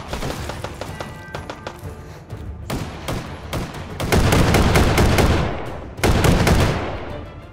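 Shotgun blasts in the VR shooter H3VR ring out in quick succession, loud booming reports with heavy tails, the last few especially powerful and close, with no talking.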